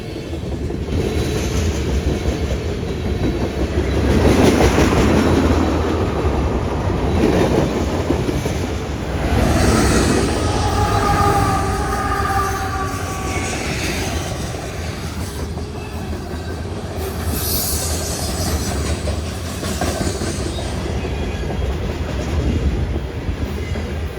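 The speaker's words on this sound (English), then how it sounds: "CSX M647 as it passes the greaser at Morton's Gap, Kentucky, heading south." CSX freight train M647 passing a rail greaser at Morton's Gap, Kentucky, heading south: a steady loud rumble of railcars with rhythmic wheel clatter and brief metallic squeals, filling the whole stretch.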